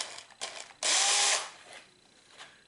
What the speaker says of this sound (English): I am going to pre-drill a hole here